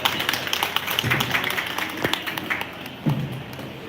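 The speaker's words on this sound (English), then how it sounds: "Please welcome sir with a huge round of applause" Scattered applause from an audience at a summer camp presentation, welcoming a speaker; a thin, steady patter of clapping with a few louder claps and slight voice murmurs underneath.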